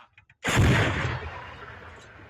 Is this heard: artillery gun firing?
yes